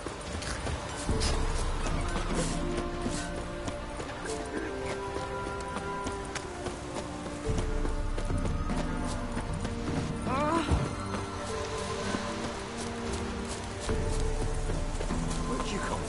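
Hooves of the horse Roach clip-clop steadily in a video game, a rhythmic trotting patter set against a continuous game music and ambience bed, with occasional whinny-like accents.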